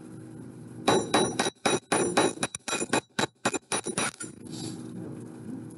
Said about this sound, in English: I'm going to hammer just the shaped part, okay?